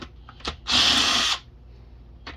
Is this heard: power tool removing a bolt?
yes